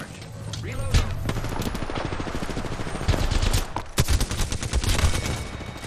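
Dense, rapid automatic gunfire in Apex Legends, loud and close, continuing almost without pause through the whole stretch with sharper individual shots standing out.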